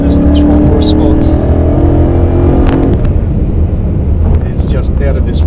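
A Whipple-supercharged Ford Mustang GT on an E85 tune accelerates hard, its loud engine drone carrying steady rising tonal whine that shifts and breaks up about halfway through as the car keeps pulling.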